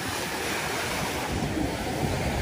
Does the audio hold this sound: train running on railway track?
no